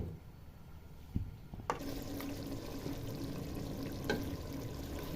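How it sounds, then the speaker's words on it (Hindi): A glass of water poured into a pot of potato biryani, a soft rush and gurgle of liquid heard close after a couple of light knocks, then settling into a low steady simmering wash. "अब हम 1 गिलास पानी डालकर इसको आलू को गलाने के लिए रख देंगे।"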